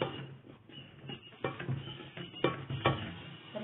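Sarson ka saag is stirred and mashed in a cooking pot, with soft, irregular scraping and thick squelching strokes that are close but faint.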